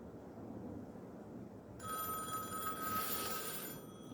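Satellite telephone on a military-grade secure communications network ringing after being dialed, a steady electronic ring tone entering partway through and holding over a low background hum, close and fairly loud.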